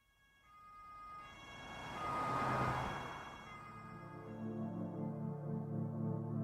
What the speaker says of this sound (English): A few minutes later, several police cars came to a stop on the road